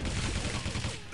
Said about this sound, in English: Ooh, machine gun.